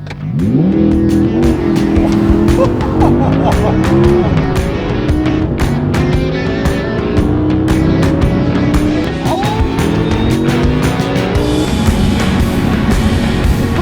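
A 2023 Audi R8 V10 revs hard and accelerates through rising, stepping gears, loud and close from inside the car with no talking.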